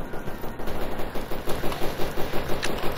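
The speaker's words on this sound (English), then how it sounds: "Usually where the sound of the gunfire is coming from." Rapid bursts of gunfire in the video game Stalker Anomaly, a steady stutter of shots at moderate distance, with brief pauses between volleys.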